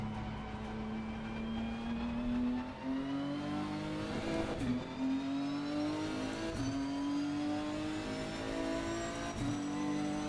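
A race car engine in Assetto Corsa screams at high revs on a British track, holding a steady loud drone with several sharp gear-shift dips and rising pitch sweeps, with no talking.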